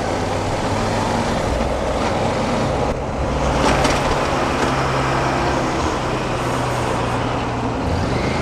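New York City street traffic rumbles densely around a motorcycle, with steady engine and road noise, heavy trucks passing close, and a brief louder surge in the middle.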